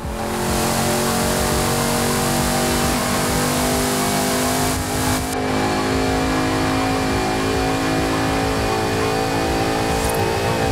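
Alfa Romeo engine fitted with a new exhaust in Forza Horizon 5, revving loud and close with a sustained, rising engine roar; after a brief break the note returns and holds strongly to the end.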